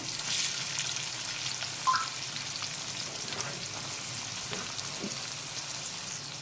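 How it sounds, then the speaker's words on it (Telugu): Onions and green chilies sizzle steadily in leftover oil from frying bitter gourd, a continuous close frying hiss with a few stirring scrapes and no talk. "ఉల్లిపాయలు బాగా వేగాలి."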